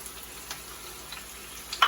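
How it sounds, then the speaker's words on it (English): Steady, soft sizzling of potatoes frying in a pan, a continuous faint crackle with a few brief louder pops near the end. "we've got the potatoes frying up nicely now"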